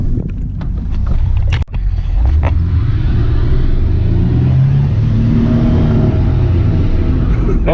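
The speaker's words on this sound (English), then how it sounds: "Oh yeah, of course it does Burnouts." Chevrolet pickup doing burnouts, its engine revving with rising and falling growls over a heavy rumble, loud and close, with a sharp thump early on and no talk over the engine.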